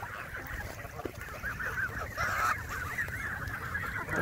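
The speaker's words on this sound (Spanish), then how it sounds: "hay patos, hay gansos" Geese and ducks in the Parque de la Mía, a city park, honk over and over in a dense, overlapping chorus from nearby, growing a little louder partway through.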